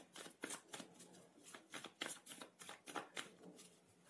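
Tarot cards are shuffled by hand in a steady riffling, flapping rhythm of soft papery bursts, quiet and close, with no talking.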